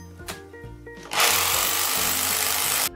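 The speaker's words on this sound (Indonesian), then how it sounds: "Drilling atau suara mengebor." A power drill runs loud and steady for nearly two seconds, with a harsh continuous whine that starts abruptly after a quieter stretch of faint mechanical tones and then cuts off sharply.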